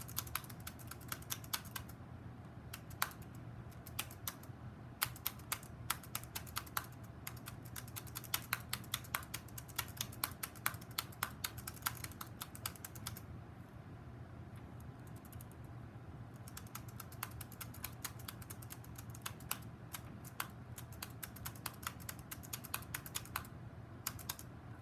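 Steady typing on a computer keyboard, a dense run of quick, light key clicks continuing throughout at close range over a low background hum, with no voices.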